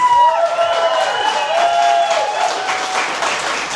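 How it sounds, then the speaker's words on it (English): Wedding guests applaud the newlyweds in a sustained round of clapping, with music and faint voices underneath. "One more round of applause for our newlyweds."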